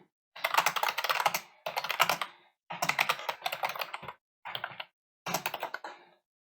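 Code is typed on a computer keyboard in quick, clattering bursts of keystrokes, separated by short pauses, close and fairly quiet with no talking.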